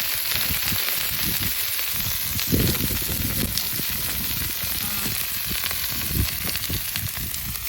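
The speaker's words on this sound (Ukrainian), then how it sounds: "Ого, так шкварчить сильно." Lamb sizzles loudly and steadily in a hot frying pan, a constant crackling hiss with occasional bursts of spitting fat.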